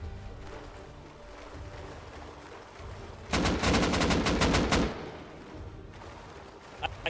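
Gunfire during a raid in the video game Rust, a sustained rapid burst of automatic shots for about a second and a half over a constant background hum and low noise.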